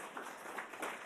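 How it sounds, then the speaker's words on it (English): Faint, distant audience applause at a military landpower education forum, a steady wash of many hands clapping for about a second with no voices. "So let's give them a round of applause again"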